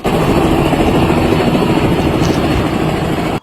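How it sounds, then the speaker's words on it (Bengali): A helicopter sets down on a school field in Jhenaidah, its loud, steady rotor and engine roar filling the air continuously at close range before cutting off abruptly at the end. "মাঠে নেমে পড়ে হেলিকপ্টার। হেলিকপ্টারের শব্দে জড়ো হয় এলাকার শত শত মানুষ।"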